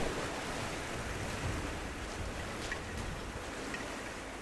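Water rising and surging in Rise of the Tomb Raider, heard as a steady, broad rush like waves or surf that keeps an even level throughout, with no talking.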